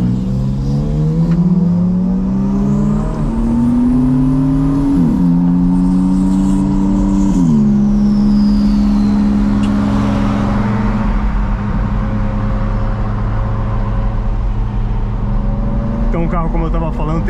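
A 2022 Audi R8 with a naturally aspirated ten-cylinder engine revs loudly and steadily up close, its pitch climbing in stepped surges before settling into a sustained high drone, with a final rise at the end.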